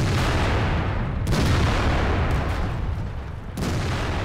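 Heavy, booming tank cannon fire from the video game World of Tanks, with loud sustained blasts and sharp new shots landing near the start and again late, alone without speech.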